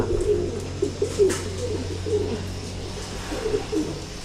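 Pigeons kept by a breeder coo in low, repeated throaty calls, several birds close by, over a constant background hum.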